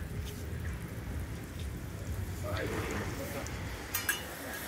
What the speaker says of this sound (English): So we've got plenty of rain going on tonight.